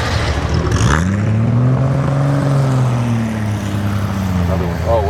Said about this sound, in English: The peace and quiet is then interrupted by the most classic of classic BMWs.